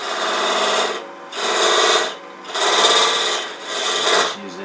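A box scraper with a negative-rake blade scrapes wood inside a box in four steady strokes, each a loud dry rasp separated by short pauses.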